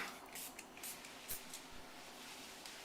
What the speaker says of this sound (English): all we're going to do is spritz it on and just rub it in with a towel